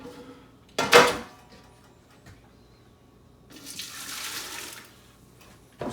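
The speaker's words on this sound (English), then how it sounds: "we are going to take some of that delicious potato water and put it in here and give" Potato water from leek soup prep sloshes and splashes into a pot as it is swirled for a rinse, a sharp burst of splashing followed by a longer, softer wash of running liquid a few seconds later.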